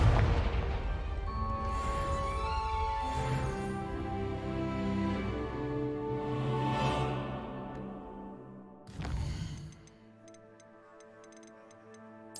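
A Confringo spell blast goes off in the Hogwarts Legacy video game as a sharp explosive burst near the end, set amid a swelling orchestral score with ticking, tonal game sounds.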